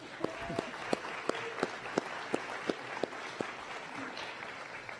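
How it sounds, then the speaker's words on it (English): An audience at a city's State of the City address gives another round of applause, fairly quiet, with a steady patter of claps and a few distinct sharper ones, plus a voice briefly in the background. "How about another round of applause?"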